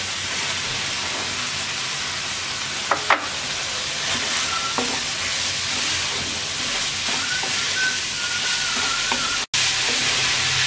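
Potatoes sizzling in hot oil for a Bangladeshi kachki shutki dish, with a loud, continuous frying hiss and a few brief clinks of a utensil.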